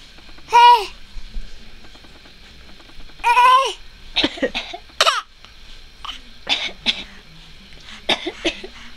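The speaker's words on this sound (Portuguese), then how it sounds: "Cadê a tosse do bebê?" A baby coughs and babbles in short bursts, a few sharp coughs spaced through the stretch between vocal sounds, close and fairly loud in a quiet room.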